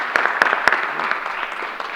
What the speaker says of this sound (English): I'm going to give you an extra round of applause for everything you've done